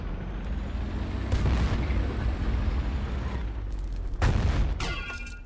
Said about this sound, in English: looks like the other guy got better timing on the cannon shots